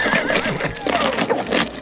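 A horse neighing, apparently game sound, a bright whinny rising over busy mixed background sound.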